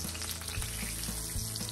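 Shrimp sautéing in a big spoonful of butter in a pan give a steady, close sizzle with a few soft, regular stirring strokes, and no voices.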